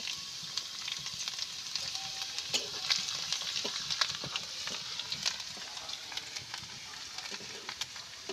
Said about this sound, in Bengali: তেল গরম হয়ে গেছে রসুনটা দিয়ে দিলাম তেলে